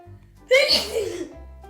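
One sharp sneeze bursts out suddenly, loud and close, with a breathy tail and faint background hum before and after.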